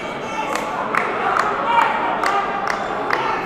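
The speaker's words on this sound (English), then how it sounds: "It sounds like the crowd doesn't agree" Spectators at a varsity high school basketball game react in disagreement to a travelling call, a diffuse crowd murmur with scattered shouts and sharp squeaks or bounces at regular intervals, heard from a distance in a gym.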